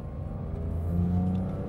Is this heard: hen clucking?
no